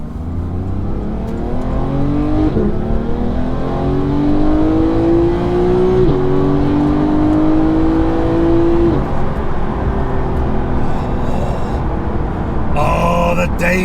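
A McLaren 600LT or Porsche 991.2 GT3 sports car engine pulls hard through the gears on open roads, rising tone climbing steadily with shifts, loud and continuous from inside the car.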